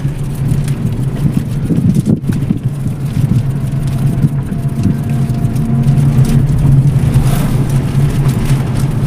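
A car is driven and accelerates, its engine humming low and steady under wind noise from inside the cabin. The drone grows a little louder toward the end, and a few faint knocks and bumps are heard.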